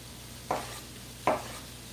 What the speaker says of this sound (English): I'm going to cut up some tomato. You need a knife that can cut right through a tomato